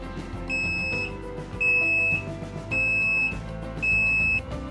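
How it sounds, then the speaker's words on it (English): A Nauticam underwater camera housing for the Nikon D850 sounds its moisture alarm: four steady, loud, high-pitched electronic beeps of about half a second each, evenly spaced over a low background hum, with no talking. "Nauticam's moisture alarm electronics are included."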